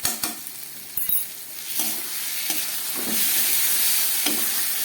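Onion, garlic and chili frying with ground cumin and chili powder while being stirred in a pan for a tangra fish curry: a steady close sizzle and hiss, broken by a few sharp spatula scrapes and clicks, with no voices.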